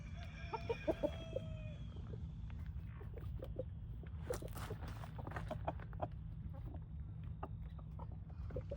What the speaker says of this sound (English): All these pretty chickens.